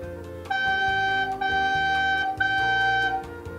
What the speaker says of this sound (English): Now that you can make a nice sound on the recorder